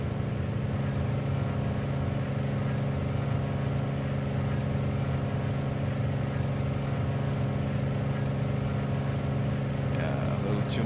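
The radial engines of a Grumman Goose drone in Microsoft Flight Simulator, a steady, moderately loud hum that holds constant throughout, with no clear talking.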